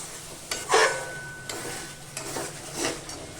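Spice paste is stir-fried in oil for a Bengali jackfruit curry, cooked until the oil separates. Several scraping stir strokes sound out close up over a soft, steady sizzle, with a brief tonal scrape near the start.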